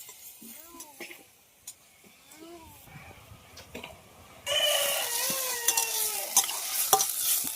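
Masala-coated chicken pieces are stirred in a pan, with quiet scrapes and soft chatter at first, then a sudden loud, steady sizzle and frying hiss over continued stirring and utensil clinks.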